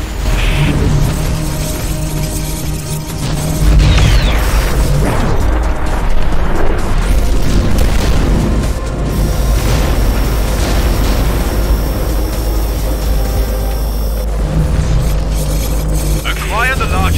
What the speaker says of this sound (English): Fire the frostbite cannon!